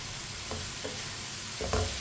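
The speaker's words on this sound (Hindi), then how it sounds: "प्याज को भी 2 मिनट के लिए पका लेंगे।" Onions fry in a hot pan with a loud, dense, continuous sizzle, broken by a couple of soft stirring scrapes.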